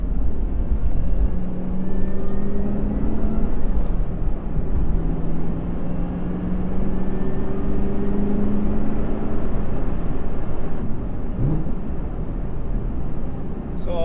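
A 2021 Camaro ZL1 1LE in track mode drones with a loud, steady engine rumble from inside the cabin, its pitch rising in long sweeps between gear changes.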